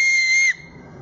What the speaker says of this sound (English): So today I'm going to teach you how to make a whistling sound, a whistle, from an acorn cap.